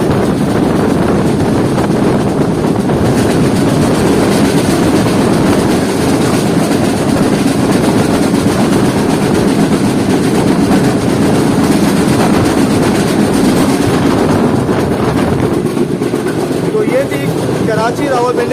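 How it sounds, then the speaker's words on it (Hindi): The Sir Syed Express, a Pakistani passenger train on the Rawalpindi to Karachi route, running near Sarai Alamgir station: a steady, loud rumble and rattle of carriages with heavy wind noise throughout, unbroken for the whole stretch. "और अब ट्रेन पहुंचने वाली है सराय आलमगीर रेलवे स्टेशन पर"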